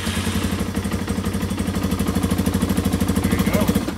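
A Yamaha TW200 motorcycle engine idles steadily after a battery replacement, a close, even, pulsing thump with faint mechanical clatter, running alone.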